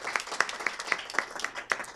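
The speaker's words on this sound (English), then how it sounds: "everybody give a round of applause to our newest Fair Oaks Rangers" At a city council meeting, a small crowd gives a brief round of applause for newly welcomed Fair Oaks Rangers; scattered, rhythmic hand claps sound close and fairly light for about two seconds.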